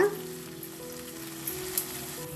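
Soft, steady bubbling and hiss from a pan of liquid coming to a boil on low flame on the stove, with a faint hum underneath and no talking.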